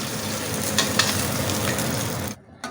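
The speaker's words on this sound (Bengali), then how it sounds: "আমি এইভাবে উল্টে পাল্টে মাছের মাথাটা ভালো করে লাল করে ভেজে নেব।" A rohu fish head fries in a pan with a loud, even sizzle and a few soft turning knocks, cutting off abruptly near the end.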